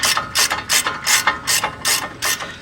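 A half-inch drive ratchet clicks in a steady back-and-forth rhythm, about nine bursts, as 21 mm brake caliper bracket bolts are loosened on a 2018 Ford F-150 front brake job; close, crisp and loud, with no talking.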